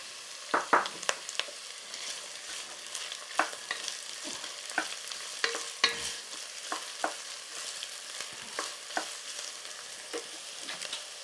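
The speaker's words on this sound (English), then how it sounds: "Now we're putting in onions." Onions fry in a pan for fried rice, sizzling steadily while a utensil stirs them in repeated scraping strokes, close and clear, with no voices.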